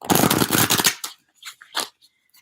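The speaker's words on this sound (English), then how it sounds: "but I'm shuffling the deck" A deck of cards is riffle-shuffled in one dense, loud burst of rapid flutter lasting about a second, followed by a few softer separate card taps and slides, with no talking.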